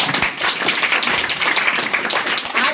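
A group of schoolchildren at a motivational class claps together in steady, dense applause that fills the room at close range, continuous throughout with no voices standing out.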